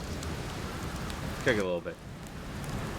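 Steady rain falls in the video game Outer Wilds, a constant hiss that runs the full length while someone talks briefly over it.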